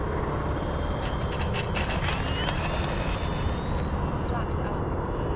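Steady engine roar of an RC P-47 model airplane of 1.5 m span on a landing approach with throttle applied, continuous and loud with shifting whine, while someone narrates.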